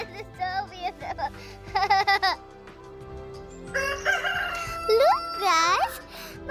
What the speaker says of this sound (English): Did you hear my chicken's voice?